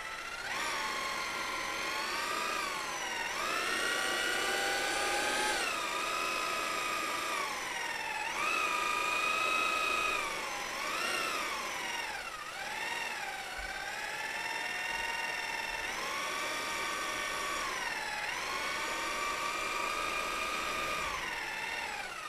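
A power mixer whirs continuously as it churns a cast-in-place mix, its motor pitch rising and dipping repeatedly as the load changes, loud and close with no talking.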